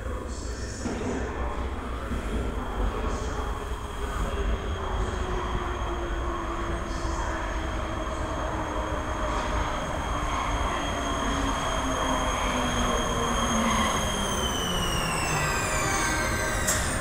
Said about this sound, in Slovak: The train arriving at the platform is for hire.